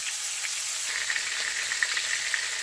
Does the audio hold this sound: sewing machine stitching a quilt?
no